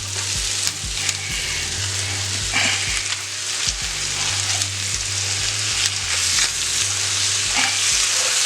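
Sausage and vegetables for a country breakfast skillet casserole sizzle loudly in a skillet, a continuous crackling fry punctuated by repeated low scraping knocks as the mixture is stirred, no one speaking.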